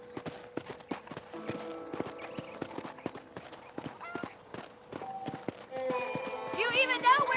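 Horse hooves galloping in the video game Red Dead Redemption, a rapid, steady clip-clop rhythm close by, with character dialogue over it and a whinny-like sound near the end.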